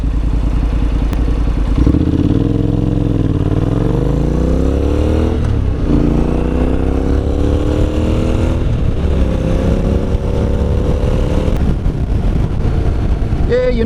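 A Honda NC750X motorcycle fitted with panniers rides along local roads, its engine note rising steadily as it accelerates through the gears over constant wind and road rumble, heard up close from the rider's position.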